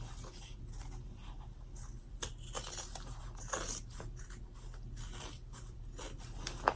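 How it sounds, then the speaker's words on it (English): Scissors snip around the edge of a fabric zipper bag made in the hoop, trimming excess zipper and material in soft, irregular clicks and rustles, close and faint. "cut all the way around your bag without cutting your stitches"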